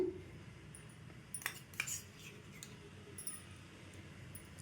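A spoon stirs jaggery Karachi halwa with ghee in a pan, giving a few light metallic scrapes and clinks in the middle over a quiet background, with no talking.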